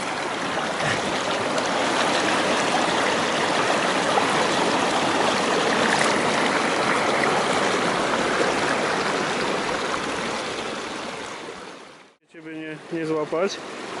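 Steady rushing of flowing river water fills the scene continuously, then cuts off near the end as a brief voice is heard.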